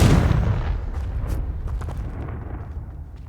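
A fiery Confringo blast from Hogwarts Legacy bursts with a loud, broad boom at the start, then a crackling, fading rumble follows over a few seconds, with no talk.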